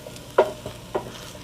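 Onion and garlic sautéed in a pan for beef kaldereta, two soft stirring scrapes against a faint steady sizzle, close and quiet.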